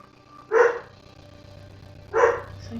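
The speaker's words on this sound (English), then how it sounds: "Oh, ferocious dog." A dog lets out two loud, separate barks about a second and a half apart, close by, with quiet background between them and no talking.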